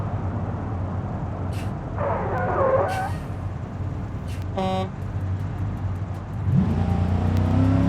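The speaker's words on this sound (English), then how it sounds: "Yeah, you hear the brakes just heating right up there." A heavy-duty hauler truck rolls downhill in the BeamNG video game, its engine droning steadily while brief hisses from the brakes and short tonal squeals cut through, rising to a louder rumble toward the end.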